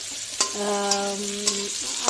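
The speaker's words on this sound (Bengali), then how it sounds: "কচুটা আর আলুটা ভাজা করছি" Pieces of taro and potato fry in oil tempered with cumin and bay leaf for a katla fish curry. A soft sizzle runs under regular scraping strokes, with a brief ringing tone in the middle.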